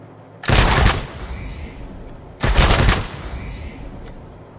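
Gunfire in the Wasteland 3 video game comes as two loud, close bursts of rapid shots about two seconds apart, each lasting around half a second, with quieter ambience between them.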